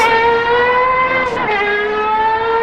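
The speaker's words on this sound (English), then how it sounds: "Listen to this thing drive away, man. Especially when you floor it." A Porsche Carrera GT pulls away under hard acceleration, its loud, steady high-pitched engine note holding a dense stack of harmonics with a brief pitch dip partway through as it shifts, running continuously without voices.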